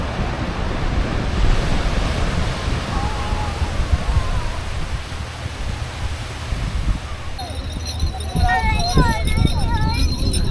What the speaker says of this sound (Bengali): জলের ঢেউটা শোনো